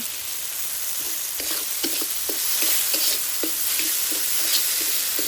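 Bottle gourd sizzles in a hot pan with cumin seeds, green chilies, coriander-cumin paste and salt, a steady frying hiss punctuated by regular scraping taps of a spatula stirring the pieces.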